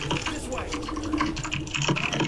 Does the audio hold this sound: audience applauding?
no